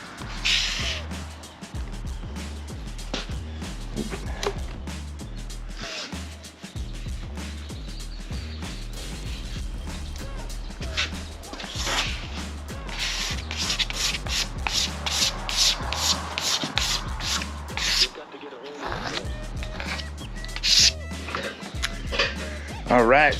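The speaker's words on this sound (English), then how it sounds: "Scrape off all the excess best I can." Excess concrete slurry scraped off a countertop with a tool, giving steady close rubbing and rasping strokes with repeated rhythmic passes and a brief pause near the end.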